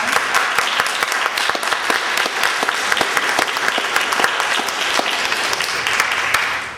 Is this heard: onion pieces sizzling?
no